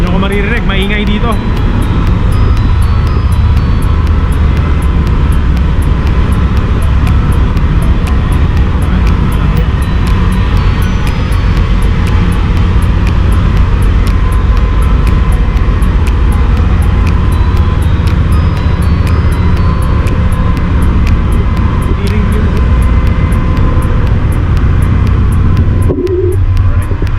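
Loud, unbroken machinery roar fills a cargo ship's engine room, a thick low rumble and hum that holds steady throughout with a fast mechanical ticking on top.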